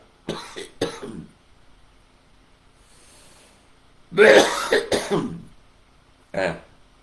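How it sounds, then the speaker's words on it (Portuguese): Several coughs in separate bursts: two sharp ones early, a heavier cluster of three or four in the middle, then one more near the end, fairly close. "Voltou a tosse."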